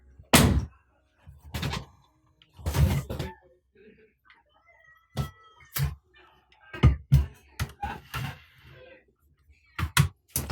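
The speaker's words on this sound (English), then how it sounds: "Sorry, let me just close my door." A room door is pushed shut indoors, giving a series of sharp thuds and knocks with quiet gaps between them, loud and close.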